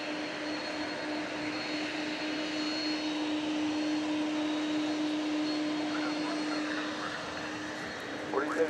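An airliner at DFW Airport taxis toward takeoff at night with a steady, droning engine whine and a sustained tonal hum that holds for several seconds, then eases near the end. Faint talk may sit underneath.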